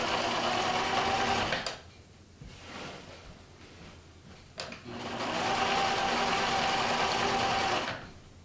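A sewing machine stitches a quillo in two runs: a steady whirring burst, a pause of about three seconds with quieter handling, then a second longer run that stops near the end.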